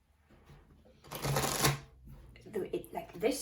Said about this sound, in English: sometimes the deck needs to be shuffled like this again for a card to come out.